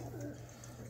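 Domestic flying pigeons on a rooftop give a short, soft coo, close and low, over a faint steady background hum.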